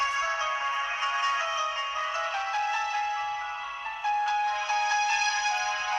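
A phone ringtone plays steadily for several seconds, a bright electronic melody of repeating tones, fairly loud and heard alone without talk.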